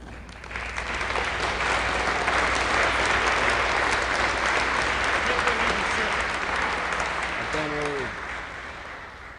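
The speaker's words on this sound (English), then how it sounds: "Please join me in a round of applause for him." Sustained applause from a large audience at an NJROTC change of command ceremony, steady and full throughout, with a voice briefly heard near the end.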